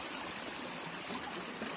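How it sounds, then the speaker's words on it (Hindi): Steady, dense rush of a waterfall-fed stream flowing continuously nearby, a full broadband wash of water with no voices over it. "झरना को पार करते हुए आगे बढ़ रहे हैं।"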